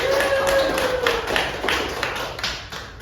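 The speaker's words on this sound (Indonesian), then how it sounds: "Tepuk tangan untuk Pak" Classroom students clap for a teacher during a microteaching lesson, giving a light scattered patter of hands with a tonal hum in the background.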